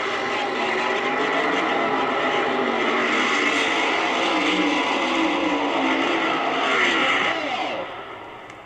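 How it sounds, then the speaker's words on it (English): Two fuel funny cars, one a Chevrolet, race side by side at the 1971 AHRA Summer Nationals drag meet, giving a loud, steady, roaring engine blast that holds for about seven seconds and then starts to fade. "Two more fuel funny cars."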